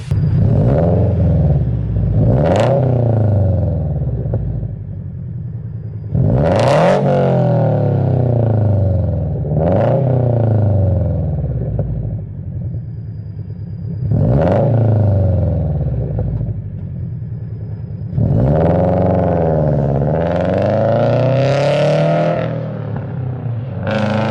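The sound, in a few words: sports car aftermarket exhaust revving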